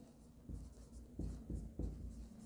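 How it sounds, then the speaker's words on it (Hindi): Pen on paper in close-up handwriting, a soft continuous scratch with several firmer strokes at a loose rhythm, over faint room hum. "यहाँ पे हम लिखते हैं सबसे पहले"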